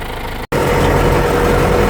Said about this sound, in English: I'm going to take the 6405 tractor and Lisa's on the 6115.